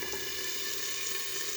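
Hamburger patties fry in a hot pan with a steady, dense sizzle and scattered grease pops, close and continuous throughout, with no talking.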